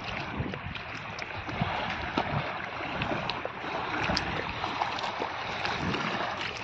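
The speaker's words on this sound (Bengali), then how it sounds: "দেখো মাতলার ঢেউ অনেকদিন তো দেখানো হয়নি না।" Choppy water of the Matla river lapping and splashing steadily near a muddy bank, a continuous close wash with small slaps, no talking.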